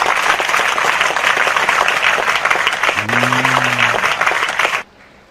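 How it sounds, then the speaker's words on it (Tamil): An audience at a Tamil speech breaks into sustained, dense applause that holds steady for nearly five seconds, with a brief low voice partway through, then stops abruptly into near silence. "இந்த கைதட்டு சின்னச்சேவகன் செட்டியாருக்கு கோயிலுக்கு கொடுக்கத்தான் நம்ம இருக்கமே தவிர"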